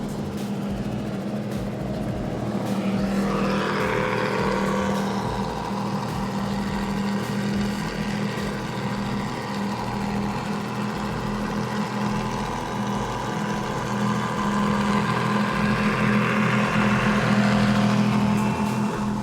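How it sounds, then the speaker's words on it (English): Twin engines of a 353 Formula Fast Tech powerboat at full throttle during the Key West Poker Run, a loud steady roar with a strong low drone that swells and surges, heard up close and without talk. "it's Fran at the helm of his 353 Formula Fast Tech, getting on the throttles for some great audio and video"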